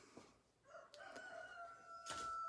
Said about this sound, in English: Oh, 2 roosters at once.